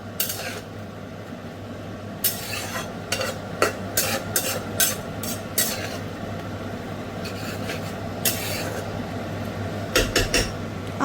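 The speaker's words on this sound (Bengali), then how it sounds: "এবার এই লাউয়ের মধ্যে এই কাঁচা লঙ্কা আর বড়ি ভাজাটা মিশিয়ে দেবো" Bottle gourd curry with green chili and fried lentil dumplings stirred in a metal pan, a steady low bubbling sizzle under frequent sharp clinks and scrapes of a spoon, close up, with no speech.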